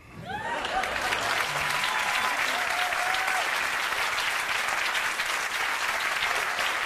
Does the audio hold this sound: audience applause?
yes